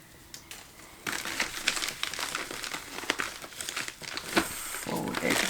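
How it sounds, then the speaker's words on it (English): Adhesive backing peeled off by hand while packing an order in a small studio, a close crinkly tearing rustle that runs steadily for several seconds with brief sharper crackles. "Peel this off."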